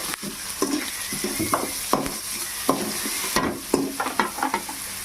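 Onions sautéing in a pan with rock salt, a constant sizzle broken by repeated scraping and clinking stir strokes of a spatula against the pan, close and moderately loud.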